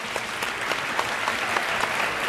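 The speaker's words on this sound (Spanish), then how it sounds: "qué menos que un fuerte aplauso para ellos" A crowd claps in a steady, dense round of applause for a couple of seconds.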